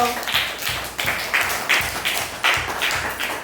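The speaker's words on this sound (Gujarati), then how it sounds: "આરાધ્યાબેન માટે તાળી પાડી પાડજો" Classroom applause for a student at Shri Hadmatiya primary school: a few children clap in a steady, rhythmic pattern of roughly eight even claps, close and moderately loud.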